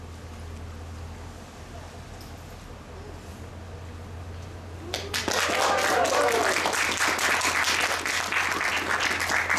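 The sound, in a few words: scattered audience applause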